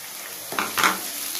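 Curry leaves crackle and sizzle briefly in hot oil for a bitter gourd fry, a short burst of spattering close up over a steady low hiss, with no talking.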